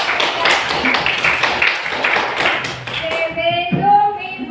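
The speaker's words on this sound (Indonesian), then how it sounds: "Tepuk tangan dulu" Classroom audience clapping in a teacher-training session, dense applause for about three seconds that thins out as a voice starts talking over the tail end.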